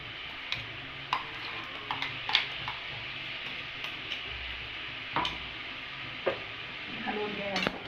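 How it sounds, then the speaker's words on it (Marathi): Mutton masala sizzling in a pan as it is stirred, with a steady low fry and a few sharp scrapes and clicks of the spoon against the pan scattered through. "हलवून घ्या"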